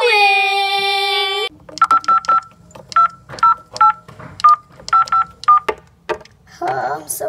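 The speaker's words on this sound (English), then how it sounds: "So today we're going to be using my phone and prank calling random numbers." A phone plays a steady tone, then a quick run of touch-tone dialing beeps follows in short bursts while a random number is dialed.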